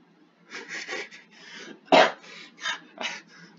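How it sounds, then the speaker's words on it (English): A person who is sick coughs several times in a row, with a series of rough, breathy bursts close to the microphone and one sharper, louder cough near the middle. "I'm trying not to laugh because I'm going to cough"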